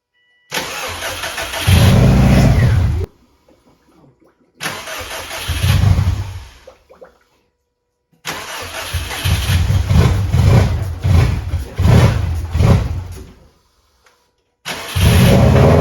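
A rebuilt Subaru WRX STI engine cranks and fires in several bursts separated by silence, catching and running briefly each time with loud, close mid-pitched engine roar and some revving.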